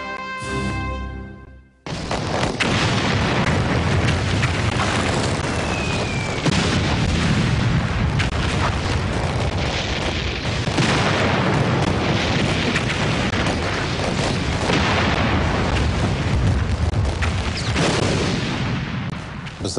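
Continuous heavy artillery barrage from the Battle of the Somme, dense rolling booms and blasts merging into a loud, unbroken roar after a brief quieter opening, with no voices.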